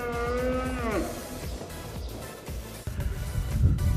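A cow at an Erzurum livestock market gives one long, loud, close moo that slides down and ends after about a second, followed by low market bustle and handling noise.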